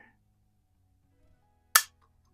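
An Air Venturi Comp 10 air pistol dry fires, giving a single sharp, crisp click close up after near silence.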